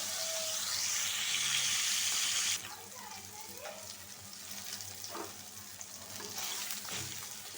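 Hilsa fish frying in oil in a pan, a loud steady sizzle that drops off abruptly partway through, leaving quieter crackling and a few clinks.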